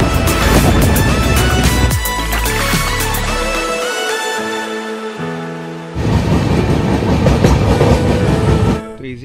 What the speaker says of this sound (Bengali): ট্রেনটা যেতে পারছে না একদম, পারছে না এখন